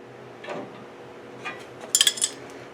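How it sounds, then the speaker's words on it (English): A crescent wrench tightens an air-conditioning condenser line fitting during a Vintage Air install in a 1968 Mustang. Soft metallic knocks are followed by a brisk cluster of bright clinks near the end, close by and with no talk. "the other one I'm just using a crescent wrench"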